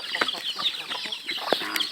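Two male turkeys call in short, nasal gobbling bursts that overlap and repeat at close range, with faint background sounds between calls.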